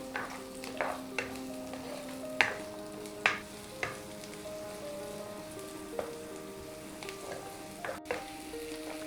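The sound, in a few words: onions frying and being stirred in oil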